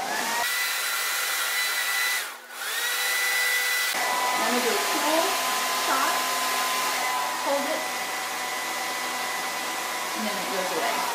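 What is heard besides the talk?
hair dryer blowing while drying hair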